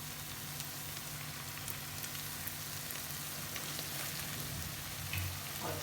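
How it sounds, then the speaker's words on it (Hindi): Minced keema with mashed tomatoes and yogurt frying on a tawa over a medium flame gives a steady, even sizzle that holds without pause, with no voices. "अब इसको हम मीडियम फ्लेम करके भूनेंगे और इसी तरह से इसमें टमाटर को मैश कर देंगे।"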